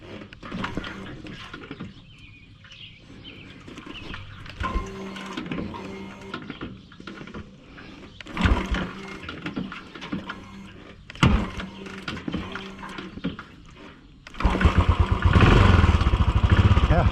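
Royal Enfield Continental GT 535 single-cylinder motorcycle being kickstarted: repeated kicks with mechanical clanks and brief sputters through the attempts, then the engine catches and runs loud and steady near the end.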